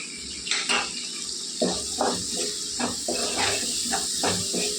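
Fresh coriander drops into hot oil in a cooking pan, hissing and sizzling steadily while a utensil knocks and scrapes against the pan in several sharp, close clatters.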